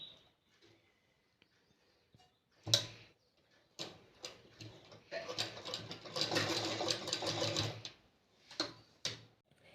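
A sewing machine stitches a broad lace border onto the edge of a dupatta, giving short whirring runs and ticking clicks that build into a steady stitching burst in the middle, fairly quiet and close with no talk.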